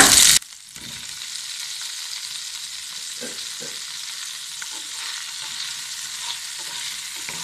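Boiled baby potatoes for a Chettinad potato roast tumble into a hot pan and fry with a steady, close sizzle, a loud burst at the start giving way to even crackling with a few soft stirring knocks.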